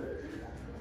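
Pigeons coo steadily at a pigeon farm in Chattogram, a soft, low, throaty burbling that continues through the moment at close range with no talk over it.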